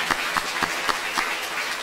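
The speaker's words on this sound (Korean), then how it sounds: "우리 박수로 맞이하겠습니다" Scattered, uneven claps ring out in a church hall as the congregation welcomes new members, a thin and fairly quiet patter of separate hand strikes lasting under two seconds.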